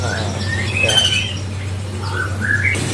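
Songbird squawking at a bird market, several short shrill calls over a steady low hum of background noise, moderately close, with faint crowd sound underneath.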